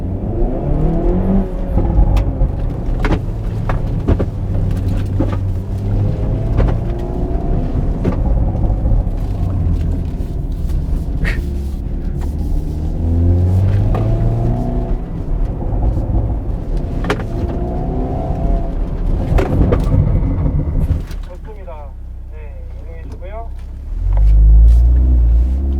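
A Hyundai Veloster N with an 8-speed dual-clutch transmission drives a gymkhana course in N mode, its engine loud and close, revving and rising through shifts with rumbling road noise before dropping to a quieter idle, then surging again.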